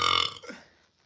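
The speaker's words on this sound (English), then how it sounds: "Allow me to fill the awkward silence with a burp" A single throaty burp from one person, loud at the onset and trailing off into quiet within about a second, heard on its own with no other sound.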